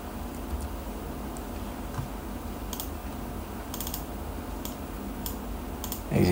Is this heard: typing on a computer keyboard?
yes